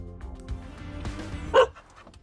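A dog barks in Autobahn Police Simulator 3, a single close bark standing out over a low game engine rumble and soft background sound.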